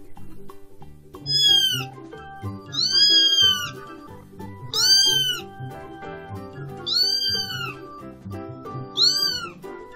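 A cat meows five times in drawn-out, rising and falling cries, evenly spaced over a faint background hum with no talking.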